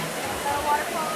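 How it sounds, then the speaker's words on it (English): A combined waterfall and fountain aboard the Royal Caribbean cruise ship Allure of the Seas gives a steady, even rush of falling water, heard briefly and continuously. "lovely waterfall, fountains, and a waterfall. It's kind of a fountain and a waterfall in one"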